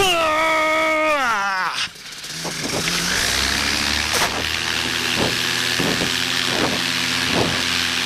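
A paramotor engine runs during takeoff from a remote field in sub-zero conditions, with a rising whine that drops sharply, then a loud steady buzzing drone with repeated pulses, while someone talks and shouts over it.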